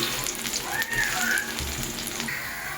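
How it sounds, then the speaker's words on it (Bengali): Chopped garlic frying in hot oil in a pan while a Bengali fish chorchori is cooked, giving a steady close sizzle and crackle. "এখন আমি যে রসুনগুলোকে কুচিয়ে রেখেছি সেইগুলো আমি তেলের মধ্যে দিয়ে দিচ্ছি"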